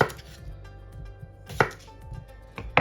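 A knife chopping lemon and cucumber on a cutting board, a series of sharp, irregular close knocks with short pauses between strokes, no talk.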